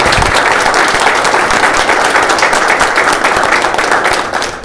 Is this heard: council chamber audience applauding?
yes